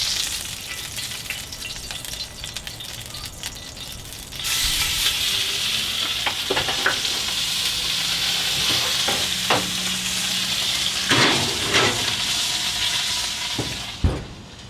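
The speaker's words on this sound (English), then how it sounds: "I'd like to show you the sear if I can." Meat sears in a hot pan with a loud, steady sizzle and hiss that swells partway through, broken by occasional clinks and scrapes of the pan, with no talking.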